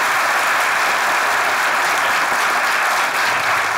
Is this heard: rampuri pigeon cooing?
no